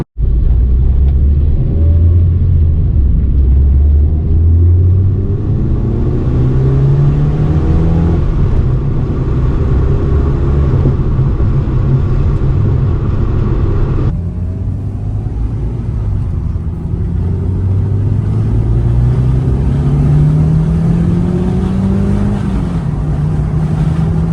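A JDM Mitsubishi Evo V's exhaust roars loud and close from inside the car as it accelerates hard, rising in pitch through the gears with a shift break midway, a continuous heavy rumble with no talking.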